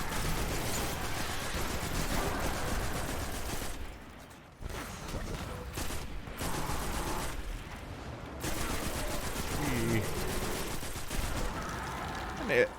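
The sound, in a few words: auto rifle gunfire in Destiny 2 video game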